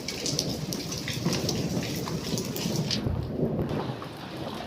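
Heavy rain pours steadily with a deep rumble of thunder rolling underneath, a dense, loud, continuous wash of sound with no talking.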